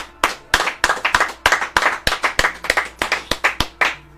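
Audience clapping in rhythmic, evenly spaced bursts of sharp claps, close and loud, about a dozen beats over a few seconds with no talking.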